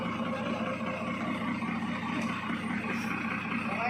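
A truck engine idles steadily up close, a continuous low rumble with no breaks or revving throughout.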